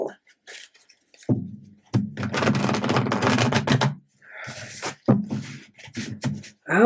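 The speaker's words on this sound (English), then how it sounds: "let's give this a nice shuffle" Tarot cards are shuffled in rapid crisp bursts, a riffle of cards clattering together close up, with short pauses and soft handling noises between.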